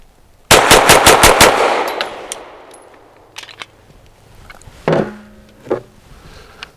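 A Grand Power Mark 12 pistol fires a fast string of six sharp, loud shots close by, followed by echoing decay, then a few lighter metallic clicks and clanks as it is handled.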